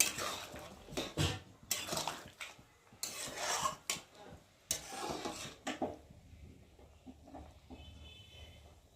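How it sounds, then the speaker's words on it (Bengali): A spoon stirring egg curry with lentil dumplings in a metal pot, with repeated scraping and clanking strokes over the first six seconds, then a quiet, low simmer. "দিয়ে একটু ভালো করে নেড়ে নেব"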